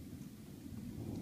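Deep, continuous rumbling thunder from a severe UK thunderstorm rolls steadily and loudly, with a faint hiss of rain beneath and no voices.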